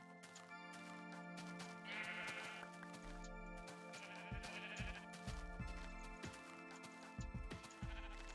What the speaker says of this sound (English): There's so many sheep all over the mountainside here.